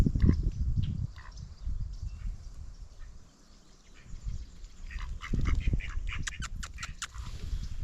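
Ducks or geese call at a migratory bird sanctuary, giving several quacks and honks at moderate distance over a rumbling outdoor background, with a short run of sharper calls near the end.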